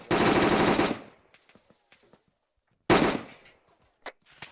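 Rapid automatic gunfire from a military video game comes in two loud, close bursts, the first lasting about a second and the second starting a couple of seconds later, with faint scattered clicks and shots between them.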